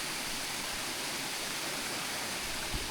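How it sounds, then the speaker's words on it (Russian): Small waterfalls running down from the mountains beside a road in Yakutia, a steady close rushing hiss of water with no pauses and no voices. "Да, вот такие водопады."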